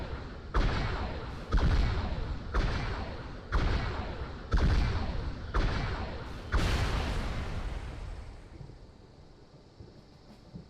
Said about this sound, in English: Firing sounds are kind of off from where the gun cannons are.